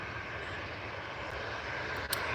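Jet2 airliner engines running on the runway at Newcastle Airport as the aircraft lines up on runway 07, a steady broad roar heard from a distance, continuous throughout with no talk.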